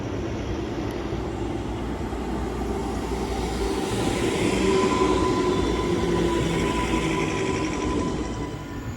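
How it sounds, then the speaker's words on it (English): A freight train rolls through Bletchley railway station, a loud sustained rumble of wheels and wagons with faint metallic squeal, swelling slightly in the middle of its passage. "we've got another freight train passing through to Daventry from Dollans Moor"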